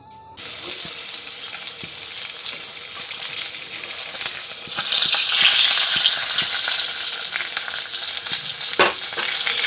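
Food frying in a pan on a gas stove, a steady close sizzle with stirring clicks and a brief surge of hiss partway through, running loud and continuous without speech.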